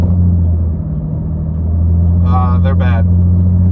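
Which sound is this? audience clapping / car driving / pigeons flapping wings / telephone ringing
car driving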